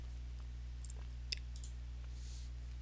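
Several soft, crisp mouse clicks land against a quiet low electrical hum, with one sharper click near the middle standing out from the fainter taps around it.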